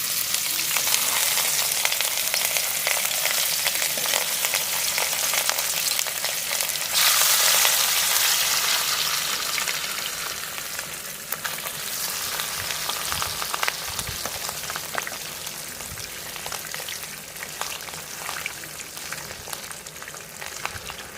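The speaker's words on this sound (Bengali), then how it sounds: "গরম তেলের মধ্যে ছেড়ে দিচ্ছি আগের থেকে নুন হলুদ মাখানো মাছগুলো" Pieces of katla fish rubbed with salt and turmeric fry in hot mustard oil in a wok, making a steady, crackling sizzle that surges louder for a few seconds before settling into a softer, even frying hiss.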